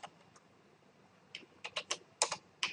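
Typing on a computer keyboard while entering text in WordPress: faint, soft key clicks at first, then a quicker run of louder, close keystrokes, no talk.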